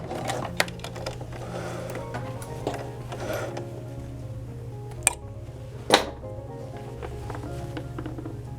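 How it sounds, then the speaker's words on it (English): A sewing machine stitches in the ditch along an existing side seam at the elastic waist of pants. It gives a steady, close motor hum with light ticking and a couple of sharp taps, and no voices. "So I'm doing what's called stitching in the ditch, right on an existing seam."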